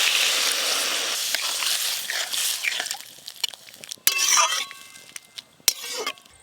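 Water splashed into a pan of fried radish and spices cooking on a village clay stove, a loud rushing pour for the first few seconds fading into scattered clinks, drips and soft sizzling, close by.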